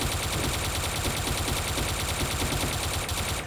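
Sustained automatic gunfire from a weapon in the Wolfteam online shooter, a dense, continuous rattle of rapid shots running loud and steady for the whole stretch with no voices.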